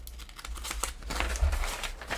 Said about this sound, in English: You guys are gonna hear shuffling of papers.